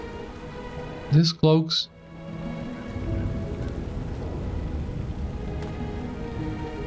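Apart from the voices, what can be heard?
rain falling in the video game LOTRO, Minas Tirith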